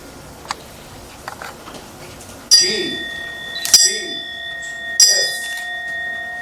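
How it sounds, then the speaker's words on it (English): A ceremonial bell opening an installation ceremony in West Bengal, India rings three times at steady intervals, each strike bright and sustained with ringing overtones, after a quiet stretch with a few faint clicks. "announce the opening of the ceremony by ringing the GCS bell"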